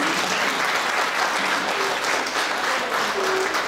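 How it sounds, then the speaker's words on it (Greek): An audience at a Greek village dance and choir performance applauds warmly, with dense, steady clapping filling the whole stretch, close and loud, with no voices standing out. "Και ας τους χειροκροτήσουμε θερμά."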